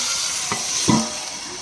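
Okra with ground chilli paste sautés in a pan, giving a continuous hissing sizzle with two brief low knocks or scrapes partway through, close and fairly loud.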